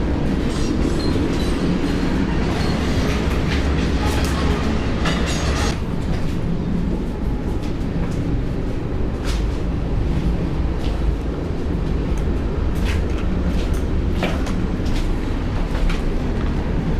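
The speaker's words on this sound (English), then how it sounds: "Another train going by." A train rumbles steadily past at close range beside an abandoned factory, a continuous loud roar of wheels on rails with faint clicking and clatter throughout.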